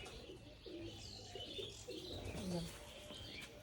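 A Hiralal pigeon of the Monir Ctg bloodline, Bangladeshi type, coos softly in short rolling phrases among faint chirps, quiet and close.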